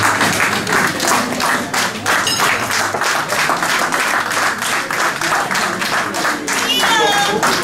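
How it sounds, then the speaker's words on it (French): An audience at an association's reunion evening applauds, a dense, continuous roar of many hands clapping that holds at a steady loudness throughout, with a few faint cheers or whistles rising near the end. "et nous allons les applaudir"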